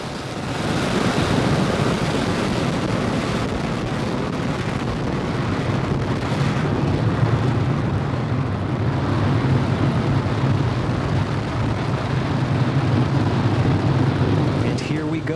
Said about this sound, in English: We're now 30 seconds into flight on the Falcon 9. All engines are running at full power.